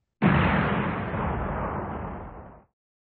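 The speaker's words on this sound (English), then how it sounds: "Then there was a Big Bang." A huge explosion standing in for the Big Bang: a single loud, broadband blast that hits abruptly, then roars and slowly decays over about two seconds before cutting off, alone with no voices.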